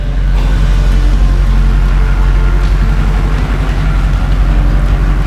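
A Duramax diesel truck pulls off, its low engine rumble steady and close, with a continuous drone and slight surges as it gets moving, and no talking.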